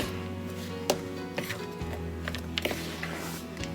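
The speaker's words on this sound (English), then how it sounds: "I use a fork to break up the butter in there" Fork breaking up room-temperature butter in a bowl for orange muffin batter, a few sharp scraping taps and clinks spaced irregularly, close and fairly quiet over a steady background hum.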